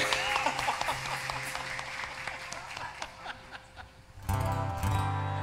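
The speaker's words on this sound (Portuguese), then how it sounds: "Palmas pra tia Rosana, obrigado aí." Applause from a church audience welcoming a guest, a dense wash of clapping with scattered laughter that fades, then a louder low musical or crowd swell near the end.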